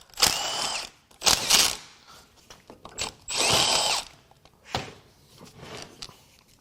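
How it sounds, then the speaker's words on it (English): Power tool bursts while unbolting the turbo inlet pipe on a Subaru WRX FA20DIT engine during a teardown: several loud whirring spurts of one to a second each, separated by clanks and handling noises close by, no speech. "I'm going to unbolt this inlet pipe."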